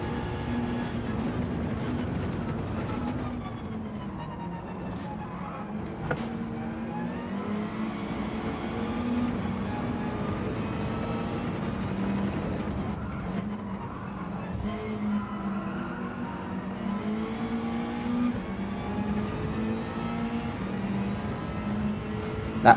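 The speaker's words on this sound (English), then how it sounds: "Revving out this Mazda." Mazda race car engine in an F1 racing video game, revving steadily and continuously at high pitch through a lap, loud and sustained with shifting tone, no talk over it.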